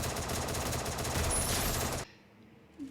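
Rapid automatic gunfire in the video game Free Fire, a dense loud burst of shots lasting about two seconds, then cutting off abruptly to near silence.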